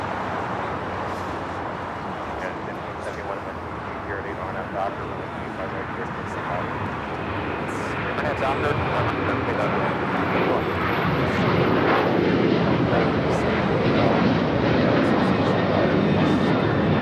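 Airliner touching down on runway 25 left at LAX, a broad roar of jet engines and rushing noise that swells in the second half, heard from a distance.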